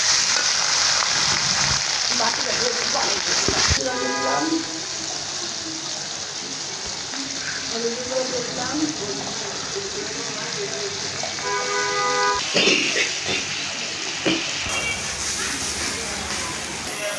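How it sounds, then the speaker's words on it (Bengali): Spice paste dropped into hot oil in a wok for a tilapia head curry with papaya and potato sizzles and crackles steadily and loudly throughout, with bright bursts of frying as more paste goes in. "তেল দিয়ে দিলাম তেলটা গরম হয়ে গেছে মশলাটা দিয়ে দিলাম বাটা দিলাম"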